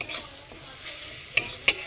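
Spiced potato curry with skin-on potatoes being stirred and fried in a pan, a close sizzle under steady scraping, with two sharp metallic clinks of the spoon against the pan near the end.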